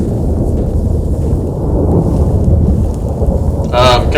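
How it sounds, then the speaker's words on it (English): A thunderstorm rolls in within The Witcher 3: Wild Hunt, producing a loud, sustained low rumble of thunder with a sharper crack near the end, alongside some speech. "That a storm?"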